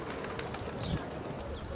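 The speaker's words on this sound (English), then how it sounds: "The place is known for its white doves." White doves coo softly at a crowded Afghan pilgrimage shrine, a short low murmuring call heard amid busy outdoor background noise.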